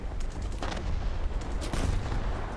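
Cannon rounds hammering a jet in a flight combat video game, heard as a loud, dense run of heavy thuds and blasts over a steady engine roar, with no talking.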